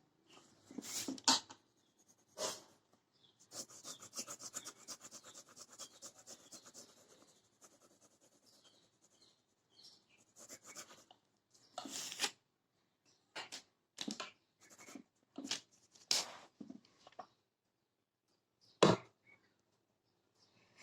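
A pencil shading bars of a graph on paper, with bursts of scratchy back-and-forth strokes, a longer stretch of steady rubbing, and pauses between them, close and clear with no voices.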